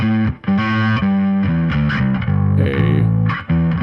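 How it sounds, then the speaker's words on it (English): Bass guitar run through a modelled Darkglass B7K distortion pedal, a modern, aggressive, mid-heavy tone with light low end, playing a loud, continuous riff of sustained notes with brief gaps, alone with no voices. "a model of a distortion pedal made by Dark Glass, B7K"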